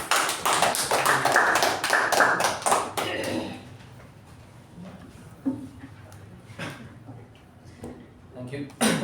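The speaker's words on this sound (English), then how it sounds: "Please welcome Toastmaster Shivaprasad with a huge round of applause." A short burst of clapping from a small Toastmasters meeting group, brisk and close for a few seconds before thinning out into scattered taps and quiet room sounds.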